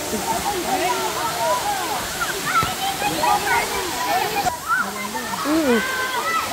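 A waterfall roars steadily in the background, a constant rushing wash of falling water, while several people chatter and call out over it.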